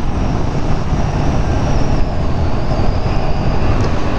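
A 2015 Yamaha FZ-07 motorcycle accelerating in third gear: a loud, steady engine roar mixed with wind rush, continuous and close throughout, with no voices.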